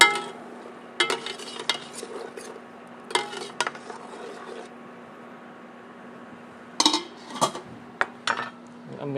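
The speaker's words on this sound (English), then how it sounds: "So just every now and then give it a little stir." A utensil stirs vinegar brine in a pot for pickled papaya, giving several short clattering scrapes against the metal in scattered bursts, close and moderately loud over a faint steady hum.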